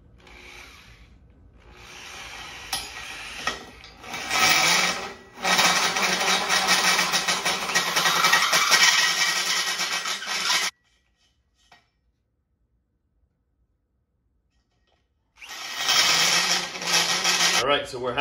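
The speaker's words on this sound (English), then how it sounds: "All right, let's start drilling" A power drill with a hole saw bores through metal for a receiver hitch umbrella stand, giving long loud grinding bursts separated by pauses and a stretch of near silence before drilling resumes.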